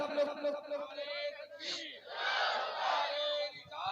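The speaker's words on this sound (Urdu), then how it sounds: "نعرے تکبیر, بلند آواز سے سب لوگ" A large crowd at an Islamic religious gathering shouts the Takbir slogan loudly in response to a call, a swelling mass of voices that rises sharply and holds for a few seconds.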